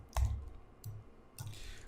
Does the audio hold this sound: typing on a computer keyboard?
yes